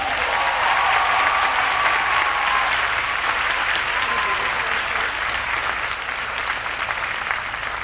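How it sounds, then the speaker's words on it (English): Audience applause at a high school graduation ceremony, a sustained wash of many hands clapping that stays loud and even before easing slightly toward the end. "Let's give him another round of applause."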